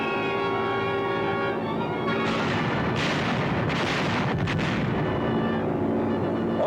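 Bombs dropped from a Consolidated B-24 bomber explode over Sicily: a dense, continuous roar of heavy blasts and rumbling booms, loud and sustained throughout with no pause.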